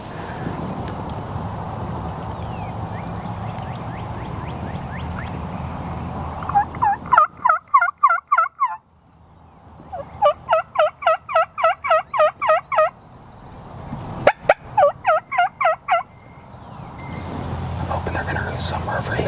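A wild turkey in Iowa answers a hunter's call with several bursts of rapid, rattling gobbles between pauses, loud and fairly close, while low whispered talk runs underneath.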